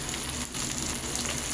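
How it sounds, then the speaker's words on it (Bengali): Vegetables including yardlong beans frying together in a pan for puii chachra, Bengali Malabar spinach stem dish, giving a steady, close, loud sizzle throughout with a brief dip midway. "এবার দিয়ে দিলাম বরবটি, তারপর দিয়ে দেব পেঁপে,"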